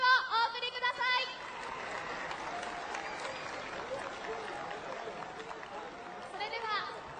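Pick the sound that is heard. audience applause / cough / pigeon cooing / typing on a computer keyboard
audience applause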